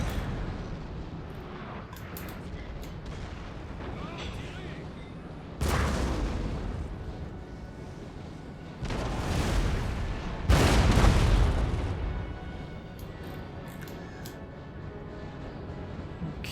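Artillery cannon fire in the battle game Napoleon: Total War, a rumbling battlefield din broken by several heavy booming blasts that swell and fade, loud and fairly close.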